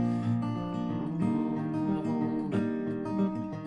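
Fingerpicked acoustic guitar plays a gentle pattern from a song, a thumbed bass note under plucked treble strings, close and clear, with no voice.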